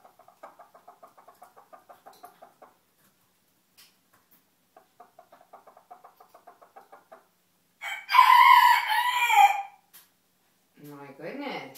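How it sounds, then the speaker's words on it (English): A chicken clucks in two quick rhythmic bursts of short calls, then lets out a loud, drawn-out crow, followed by a brief squawk, close by in an otherwise quiet setting. "You silly chicken."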